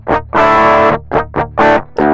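Electric guitar through a TSE808 tube screamer drive plugin with a little added drive and tone, playing short chords and notes in bursts that sound thin, fizzy and distorted, loud and close with no talking.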